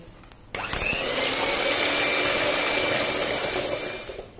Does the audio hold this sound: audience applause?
no